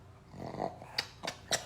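Pugs grunting and snorting close by, a few short nasal snorts and rough breathy grunts in quick succession at a yoga session with dogs.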